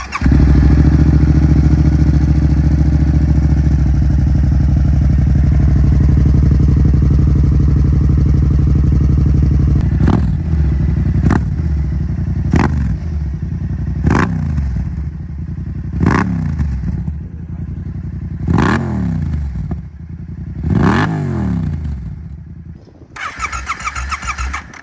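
A Yamaha motorcycle fitted with a Yoshimura full exhaust, EDR intake funnel and flashed ECU idles loudly up close, then the engine is blipped in a series of sharp revs that rise and fall, ending with a brief higher burst.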